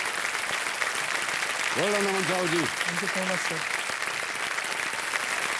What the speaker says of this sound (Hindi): जोरदार तालियां बज जाए अमन जी के लिए।